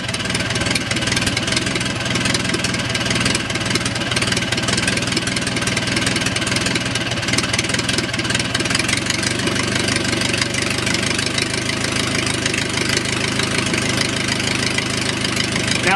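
Les Smoot 4A084 aircraft engine idling slowly once warmed up, a loud, steady, low chugging drone with an even knocking rhythm that holds without a break, close to the recorder and free of talk.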